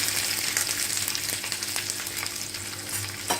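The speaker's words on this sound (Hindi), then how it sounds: "तेल थोड़ा सा गरम हो जाए तब हम इसमें डालते हैं लहसुन, अदरक, प्याज।" Garlic, ginger and onion sizzle and crackle steadily in hot oil, close by, with occasional stirring scrapes and no talking.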